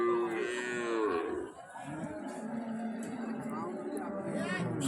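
A Sahiwal cow moos loudly nearby in a long, drawn-out call, followed by a second lower moo, while people talk in the background.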